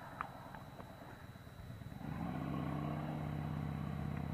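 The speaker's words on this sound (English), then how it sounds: "Another motorcycle." A motorcycle without a helmeted rider approaches and passes, its engine rising from a faint rumble into a steady, close drone that holds through the second half after some quiet clatter.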